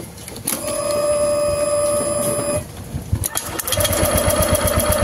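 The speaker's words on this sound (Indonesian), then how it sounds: "coba starter" A Honda Vario 150 scooter with missing ignition spark is cranked on its electric starter, giving a steady whirring drone with a high tonal whine, then a pause and a second, faster pulsing crank run, close and loud.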